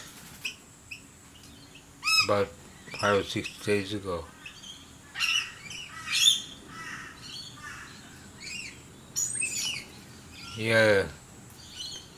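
Cockatoos screech and squawk in several loud bursts at a bird sanctuary, with a person talking over and between the calls.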